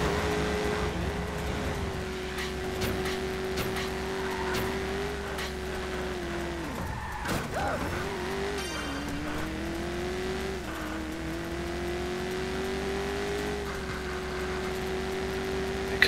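Car engine in the video game Watch Dogs droning steadily as the vehicle drives, its pitch dipping and rising with speed changes and a rough jolt midway, loud and continuous throughout.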